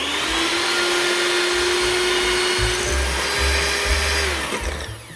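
Electric mixer whipping egg whites to stiff peaks for smoked salmon soufflés, a loud continuous high whirring drone close by with steady rattling underneath, tapering off at the end.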